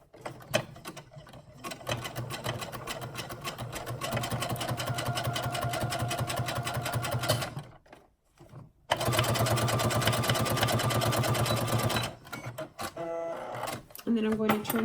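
A sewing machine top-stitching a seam runs in a steady, even whir for several seconds, pauses briefly, then resumes before stopping near the end.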